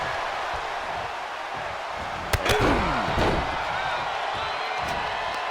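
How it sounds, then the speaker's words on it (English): A steel cage door slams shut at a pro wrestling cage match during a birthday bash event. Two metallic bangs come a second apart over a constant wash of arena crowd noise. "The door's shut, the gloves are off."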